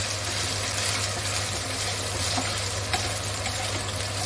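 Lardons frying in their own rendered fat in a pan, a dense, steady sizzle held close and loud over a low constant hum, with faint stirring clicks and no talking.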